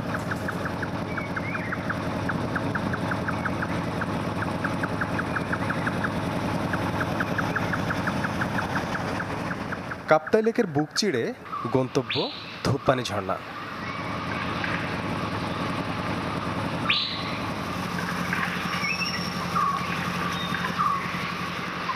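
A trawler boat engine chugs steadily on Kaptai Lake in Rangamati, a continuous low drone heard beneath someone narrating throughout, with a brief burst of wind buffeting midway.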